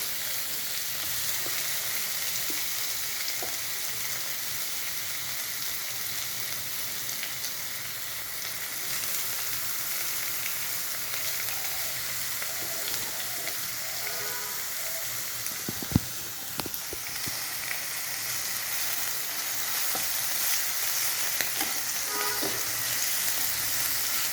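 Onion paste with garlic paste fries in hot oil in a pan while making chicken, a steady close sizzle and hiss throughout with a brief stir and clink midway, no talk.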